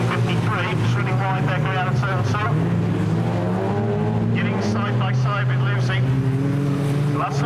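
1600 production race cars, including a Honda Civic, race at Standlake in a continuous engine drone with rising and falling tones as cars pass, while a commentator talks over it throughout.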